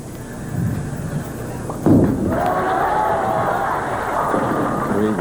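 A bowling ball in a 1995 PBA Peoria Open match thumps down at the lane, then rolls with a low rumble beneath the hubbub of an arena crowd.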